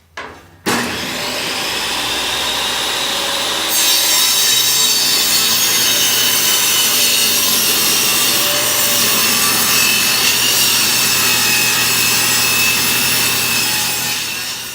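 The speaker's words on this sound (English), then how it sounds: "I'm going to want to cut off the edges because this is a piece of flooring" Hand saw cutting the edges off a piece of wood flooring, loud close rasping strokes in a steady run after a brief knock at the start.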